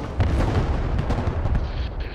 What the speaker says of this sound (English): High level missile just fired.